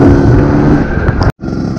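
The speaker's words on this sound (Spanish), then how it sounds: "hay una diferencia brutal al escape de serie a este escape, que es más gordo" Derbi moped fitted with an aftermarket Metrakit exhaust, thicker than the stock pipe, revving loudly and raspily up close, with a brief cutout before the engine note resumes.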